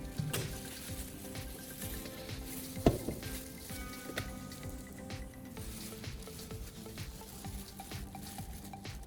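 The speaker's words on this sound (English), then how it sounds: "I'm boiling some water in this electric kettle." Water heating in an electric kettle, a steady close hiss and fizz of bubbling with a faint hum underneath and one brief clunk partway through.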